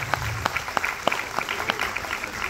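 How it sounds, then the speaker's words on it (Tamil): Scattered clapping from an audience at a school annual day function, a thin patter of separate hand claps, fairly faint and brief, under a low murmur. "நளினி அம்மாவுக்கு நீங்கள் எல்லாம் ஒரு மிக சிறந்த கரகோஷம் கைத்தட்டி வாழ்த்துக்கள் சொல்லணும்."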